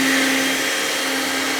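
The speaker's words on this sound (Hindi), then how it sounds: "तो इसको पीसते चले जाएंगे" Electric grinder blending masala into a fine paste for masala chops, a loud, steady motor whine with a constant pitch that runs unbroken the whole time, close up with no voices.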